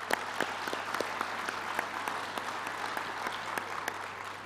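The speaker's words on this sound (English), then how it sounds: "So hand of applause for all the posters." Conference audience applauding the posters at a research conference, a dense, even wash of clapping from many hands with sharp individual claps poking through, sustained and fairly loud throughout.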